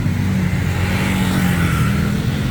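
Steady road traffic fills a street in Huai Khwang, Bangkok, a dense continuous rumble of car engines with a vehicle pulling past nearby, loud and unbroken.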